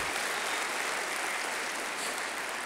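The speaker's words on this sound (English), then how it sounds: "give them a round of applause" An audience applauding city council members at a State of the City address, a dense, steady wash of clapping that holds evenly throughout with no talking.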